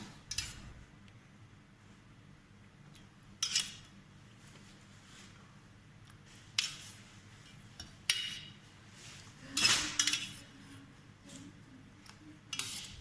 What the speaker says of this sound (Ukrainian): В бульйон додаємо картоплю нарізану кубиками.